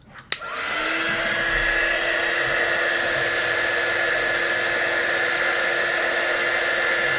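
Hot air blower heating a plastic part of a 1/32 Mirage 2000D model kit, a click then a steady loud whooshing hiss with a faint tonal whine that runs on without pause.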